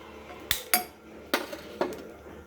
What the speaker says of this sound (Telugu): బాండీ పెట్టాను స్టవ్ మీద.